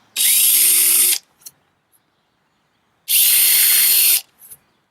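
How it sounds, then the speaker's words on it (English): Two separate bursts of a power drill with a 1/4-inch bit drilling holes, each about a second long, loud and close, with a quiet pause between them. "Use a 1/4-inch bit and drill these holes right out"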